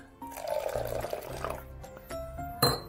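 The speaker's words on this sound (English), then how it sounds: "So you keep adding the water." Water pouring and splashing into a blender while making coconut chutney, close up, with a faint clink near the end.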